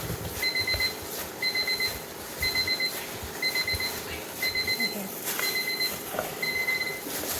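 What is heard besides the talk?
kitchen alarm ringing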